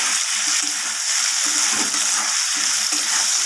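Potatoes with turmeric frying in oil, a dense, loud, continuous sizzle with faint rhythmic stirring underneath, close to the pan and without speech.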